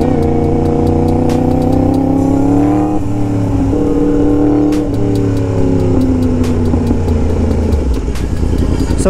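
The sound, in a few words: Yamaha MT-10 motorcycle exhaust revving loudly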